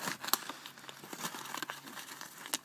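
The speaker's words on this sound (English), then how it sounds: "Rip that piece of seam tape off" Carpet seam tape ripped off in a short burst of dry tearing and crinkling, close and fairly quiet, with a couple of sharper snaps during a pet-damage carpet repair.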